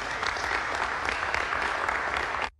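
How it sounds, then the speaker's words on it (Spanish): An audience applauds after a political speech in Argentina; dense, steady clapping at full strength that cuts off abruptly near the end. "tenía una claque que lo aplaudía"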